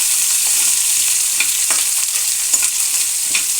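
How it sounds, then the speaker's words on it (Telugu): Onion and green chili pieces fry in a hot tempering for a spinach and paneer curry, giving a loud, close, unbroken sizzle with occasional stirring clicks and no voices. "తిరగమాత వేసుకొని ఉల్లిపాయ ముక్కలు పచ్చిమిరపకాయ ముక్కలు వేసుకొని కొద్దిగా వేగాలి"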